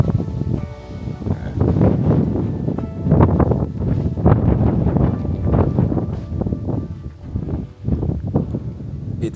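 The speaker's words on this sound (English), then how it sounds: "It is a very windy day, as you can hear in the background" Wind gusts buffet the microphone outdoors on residential land in Jamaica in heavy, low rumbling waves throughout, with a faint rustle beneath.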